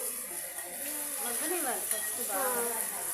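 Onions fry in a pan with a steady broadband sizzle, while a nearby voice talks over the cooking throughout.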